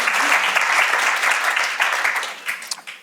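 An audience at a live talk cheers and applauds steadily, with broad, dense clapping filling the whole stretch and a few louder shouts and claps near the end.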